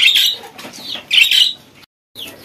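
Ducks being fed corn meal give loud, close, harsh squawks in a few quick bursts, with a short silent gap before another call.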